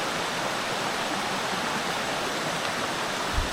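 A fast-flowing mountain stream in the Great Smoky Mountains rushes steadily and close by, a dense unbroken wash of water with a brief low thump near the end and no voices.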